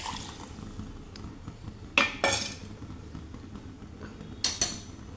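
A spoon stirs saaru simmering in a cooking pot, giving a few sharp metallic clinks and scrapes in two quick pairs over a faint, steady kitchen background.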